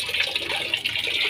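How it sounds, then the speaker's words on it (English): Water flows steadily in a fish breeding aquarium for danios with a rocky bottom, a continuous close hiss and trickle with no talking. "water that's like flowing from over here, presumably to there"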